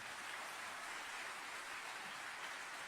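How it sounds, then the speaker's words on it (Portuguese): A church congregation applauding in worship: a dense, even hiss of many hands clapping, faint and distant, holding steady with no distinct individual claps or voices. "Então dá um aplauso ao Cordeiro aí, melhor que você puder"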